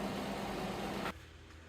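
A 2014 Polaris Sportsman 570 ATV engine idles in a garage with a rough, hissing rumble from an exhaust leak, cutting off abruptly after about a second, leaving a quieter low hum.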